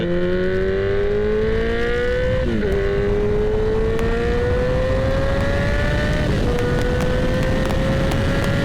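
A 2021 Kawasaki ZX14R accelerating hard on the road, the engine note climbing steadily through two gear changes, loud and close under heavy constant wind rush.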